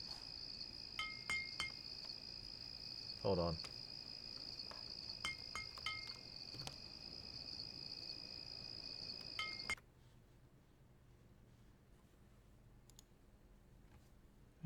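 Steady high cricket chirping loops as ambient sound in a winter area of the survival game Citadel: Forged with Fire, with scattered clicks and a brief voice, then cuts to a quieter background partway through.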